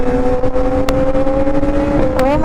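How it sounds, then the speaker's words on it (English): A loud BMW S1000RR superbike with a full exhaust system drones steadily with a strong, sustained engine tone. It rides among other motorcycles in traffic, with brief sharp crackles partway through. "There's a S1000RR."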